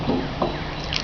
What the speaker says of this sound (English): to rinse it out, I'm just going to dump a little lacquer thinner through